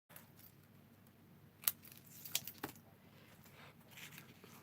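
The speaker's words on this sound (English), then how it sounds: "right, I'm going to cut this in half." Scissors snip paper in half for card making, a few faint close cuts and clicks over quiet room hiss.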